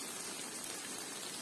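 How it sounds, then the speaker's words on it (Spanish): Rain mixed with hail pours down steadily during a stormy motorcycle ride up toward mountain lagoons, a dense, continuous hiss of drops striking surfaces with no talking. "gotas de agua. Mezclado con granizo. Miren, sigue lloviendo más."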